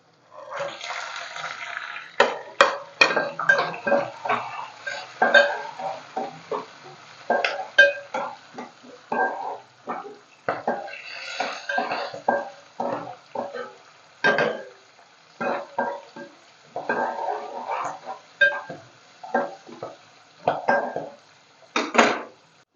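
Peanuts and dal frying in plenty of hot oil in a pan for upma, with dense crackling sizzle and repeated sharp clinks and scrapes of a spoon against the pan, close and busy throughout.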